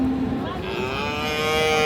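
A single cow lets out a long, close, loud moo at a crowded cattle market, the Atmabandir haat in Nawabganj, Dinajpur, with a murmur of the surrounding crowd behind it.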